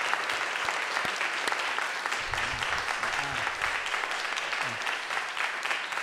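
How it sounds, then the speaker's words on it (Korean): Church congregation applauding a visiting mission team during a Sunday service: continuous, full-room clapping at fairly loud level, with faint low hum and brief voices murmuring underneath. "우리 미션팀을 위해서 다시 한번 크게 박수 보내주시기 바랍니다"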